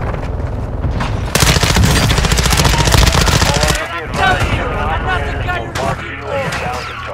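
Automatic gunfire in a first-person shooter video game set in Building 21: a dense, loud burst of rapid shots followed by scattered bangs, with voices talking over it.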